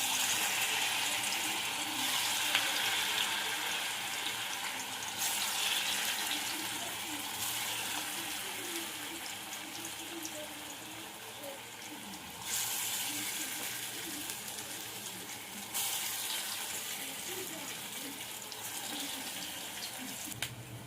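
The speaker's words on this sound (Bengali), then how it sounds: "এবার বাঁধাকপির পকোড়াগুলো ভেজে নেব।" Cabbage pakoras fry in hot white oil, giving a steady hiss and sizzle that shifts in level now and then.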